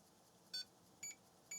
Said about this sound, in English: Now if I turn on the beep will be at a different frequency as well.